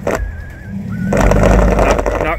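A Toyota Tacoma 4x4 stuck high-centred revs its engine as it tries to drive forward, a loud rising roar with a whining tone over it at close range.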